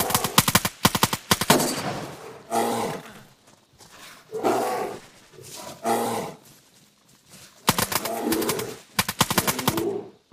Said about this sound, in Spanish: Le he podido meter dos tiros solo con esa, tío.